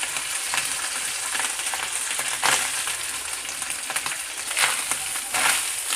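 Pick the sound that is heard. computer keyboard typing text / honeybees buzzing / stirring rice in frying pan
stirring rice in frying pan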